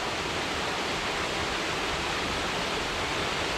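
A waterfall on White Oak Canyon creek, heard as a steady, dense rush of falling water that fills everything without a break.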